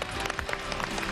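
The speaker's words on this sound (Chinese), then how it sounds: "让我们掌声欢迎来自于北京大学第一医院的孙浩林副总医师。" Studio audience on a Chinese television health programme clapping steadily to welcome a guest doctor from Peking University First Hospital, a brief, even burst of applause.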